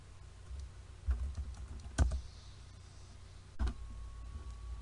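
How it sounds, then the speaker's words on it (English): Scattered keystrokes tapped on a computer keyboard while typing words shown in a typing game, a few separate soft clicks with pauses between them, close and quiet against faint background noise. "you just type the words that you see"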